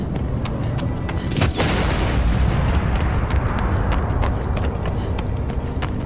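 Booming blasts fired by a colossus in Shadow of the Colossus, a loud continuous rumble with a sharper impact near the start, the dense roar holding steady throughout.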